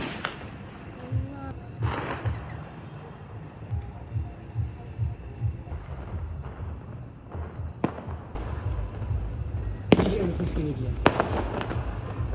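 Firecrackers bursting outdoors in Nepal: a few sharp, scattered cracks and pops, two stronger bangs near the end, over a busy background with voices.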